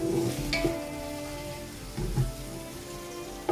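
Tomatoes and onions sautéing in a pan for tomato rice, a soft hissing sizzle close by with a couple of light spatula scrapes and a faint low hum underneath.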